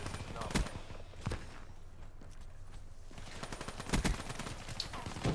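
Gunfire in the video game Call of Duty: Black Ops 3, with several sharp shots and short bursts over a constant low rumble of game sound, at moderate level.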